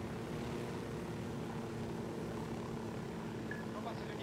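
Helicopter rotor and engine drone in Ghost Recon Wildlands, a steady mid-level hum running throughout beneath faint gameplay sounds.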